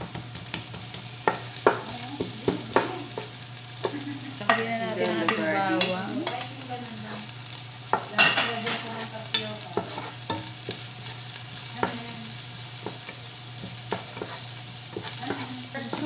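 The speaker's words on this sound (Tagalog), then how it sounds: "Sibuyas muna guys. Gisa-gisa muna natin siya." Onions sautéing in a pan, a continuous soft sizzle with occasional utensil scrapes and taps. A person talks over it for several seconds in the middle.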